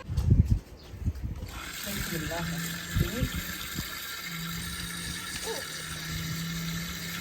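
Tap water running while round tinda gourds are washed, a soft continuous trickle and splash close by, with a clatter at the start and a low hum underneath.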